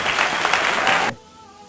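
Dense applause from an audience honoring Paraguayans, steady and loud for about a second before cutting off abruptly to quiet room tone.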